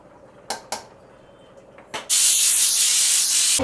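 A pressure cooker holding a hyacinth bean and egg curry gives a few sharp mechanical clicks, then bursts into a loud, sustained steam hiss that continues to the end.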